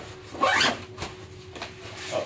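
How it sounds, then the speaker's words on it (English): A zipper on a bullet ruck backpack is pulled closed in a quick, close rasping zip, followed by a couple of fainter short tugs. "I'll zip up my bullet ruck."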